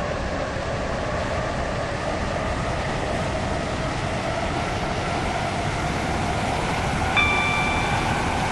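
A Class 707 train in the video game Stepford County Railway runs along the track with a steady rumbling roar and a faint whine, and a brief high tone sounds near the end.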